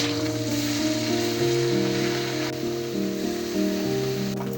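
Small mola fish sizzle steadily in hot oil in a wok, a loud, continuous frying hiss with a faint steady hum underneath, close up and with no voices.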